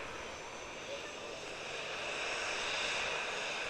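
Ryanair Boeing 737 jet vacating the runway at Manchester Airport, a steady broad engine roar that swells slightly toward the end, heard from a distance and continuous throughout.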